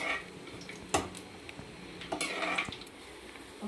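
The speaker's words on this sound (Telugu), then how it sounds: "మసాలాలన్నీ మంచిగా వేయించుకోండి ఇవి వేగేటప్పుడే మంచి స్మెల్ వస్తుందండి" Spices frying in a pan while a utensil stirs them, giving light metallic clinks and scrapes over a faint sizzle. The sound is close and quiet, with no voices.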